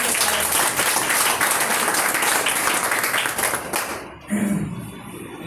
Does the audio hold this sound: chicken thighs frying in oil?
no